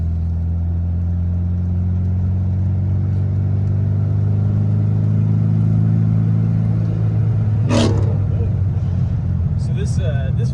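A Volkswagen 1300 engine with dual carburetors and 1.25 rockers runs loud and close at a steady, rumbling idle, with a brief sharp noise near the end.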